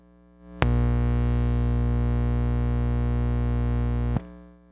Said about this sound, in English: A toaster.